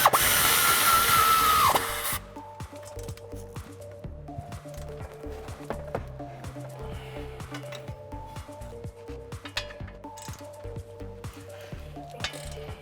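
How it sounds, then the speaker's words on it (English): A pneumatic air ratchet whirs loudly in a short burst while tightening bolts on a Mustang's suspension, then falls quiet under scattered light metallic clicks and taps. "I have my air ratchet here"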